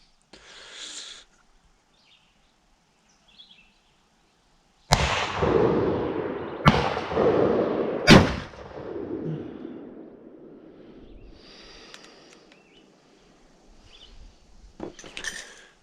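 A LeMat shotgun barrel fires .62 caliber round balls outdoors: three sharp, loud blasts a couple of seconds apart, each with a ringing echoing tail, set among faint bird calls and quiet gaps before and after.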